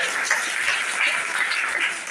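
Audience at a Hindi poetry gathering bursting into dense, continuous applause, many hands clapping at once in a lively, steady wash of sound with no voices over it.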